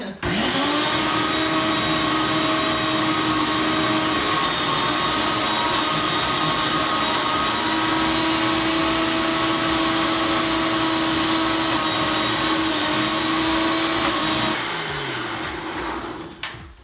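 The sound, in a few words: blender blending sauce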